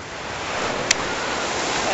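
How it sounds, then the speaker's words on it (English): Ocean waves breaking on a beach, a loud continuous wash of surf with wind rushing across the microphone, steady throughout with one brief sharp click. "Look at these waves, though. They're crazy, though."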